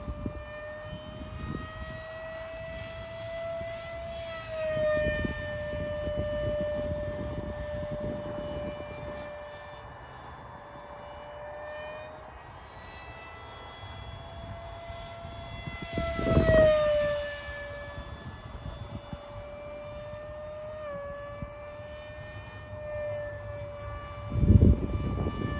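A Banana Hobby A-4 Skyhawk 50mm electric ducted-fan RC jet flies overhead with a loud, high whine that rises and falls in pitch as it passes and returns.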